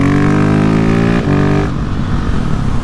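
2020 Husqvarna 701 motorcycle accelerating hard, a loud close engine note climbing in pitch, then a quick shift and a rougher roar as it pulls away.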